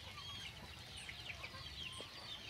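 Chickens on a farm cluck softly as they file out of their coop, faint scattered calls over a steady background hiss.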